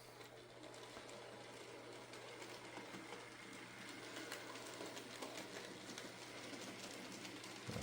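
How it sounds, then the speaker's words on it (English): A model Black 5 steam locomotive chuffs and clatters steadily along with a faint mechanical ticking, fairly quiet and continuous, no voices. "get our steamer going"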